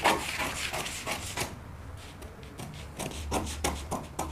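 Knit fabric being cut with scissors for a draped dress, giving a run of soft, close crisp snips and rustling strokes, a short quieter pause mid-way, then more snipping.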